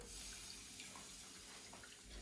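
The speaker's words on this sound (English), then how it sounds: "I'm going to add a little bit of this beef broth, just for the heck of it." Beef broth pours into red chile sauce for carne adovada, a soft steady liquid trickle and splash heard faintly over quiet kitchen background noise.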